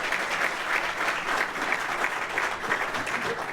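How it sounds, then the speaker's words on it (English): An audience applauds steadily for Mike Crowley at an Elm Street redevelopment and preservation project event, a dense, even wash of clapping that continues throughout. "So a round of applause for Mike."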